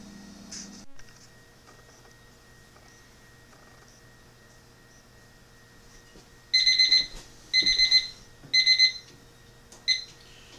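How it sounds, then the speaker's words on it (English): A kitchen timer alarm rings in four short bursts of rapid beeping, followed by one brief final burst, after a long quiet stretch with low background hum; the setting is a kerosene stove cooking session with a Griswold No. 7 cast-iron pan. "set the timer for 5 minutes to preheat it"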